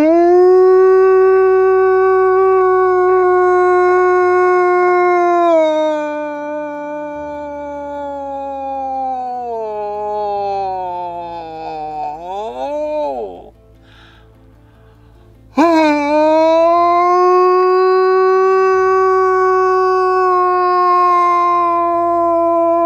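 A hunter imitates a wolf howl with a hunting call, using a tube for resonance: long sustained wavering howls with pitch slides, loud and close, one breaking off briefly before a fresh howl starts.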